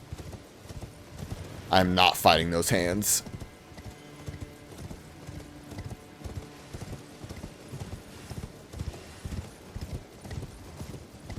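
A horse in the video game Elden Ring gallops in quick, even clip-clop beats through the whole stretch, with a brief whinny early on, while a player talks over it.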